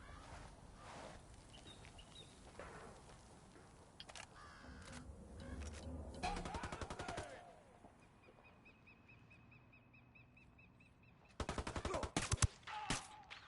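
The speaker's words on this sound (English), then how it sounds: "Opening fire on these fuckers" Gunfire in Ghost Recon Wildlands, with several bursts of automatic fire separated by quieter stretches, the loudest volley coming near the end.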